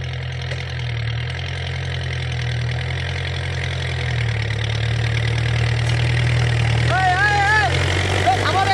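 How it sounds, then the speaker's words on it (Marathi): A tractor engine idles in a field with a steady low throbbing hum throughout, fairly close, while people talk over it and a brief warbling sound appears near the end. "अरे थांबव ट्रॅक्टर"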